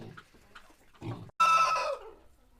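Hens in a Ukrainian backyard poultry flock, plump layers that have started laying well, cluck in several short, close bursts, ending in a louder, denser squawking burst.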